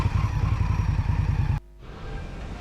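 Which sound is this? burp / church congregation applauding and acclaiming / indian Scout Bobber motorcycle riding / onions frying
indian Scout Bobber motorcycle riding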